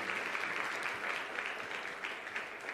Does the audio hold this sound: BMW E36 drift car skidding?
no